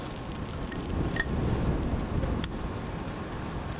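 Blizzard wind from the 1993 storm roars steadily outside a Queens Village house, heard from an upstairs window as a broad, rushing whoosh with slight surges and a couple of faint ticks.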